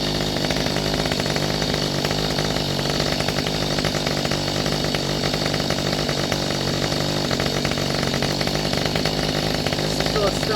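A Mantis tiller's small two-stroke engine runs steadily at a fast, buzzy idle, loud and close, with people talking over it.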